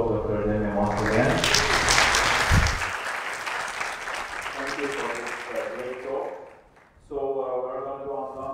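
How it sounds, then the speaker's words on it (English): Lecture audience applauding a physicist after a talk on quantum networks at a quantum information conference day, a full round of clapping lasting several seconds, overlapping the host's voice before and after, then dying away. "please let's applaud Dr."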